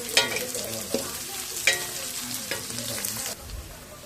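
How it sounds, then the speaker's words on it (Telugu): Green chillies and onions sizzle and fry in a pan while being cooked for fenugreek-leaf chicken, with a steady crackle broken by several louder scraping stirs, close and alone with no talk. "పచ్చిమిర్చి ఉల్లిపాయలు వేయించుకుందాం"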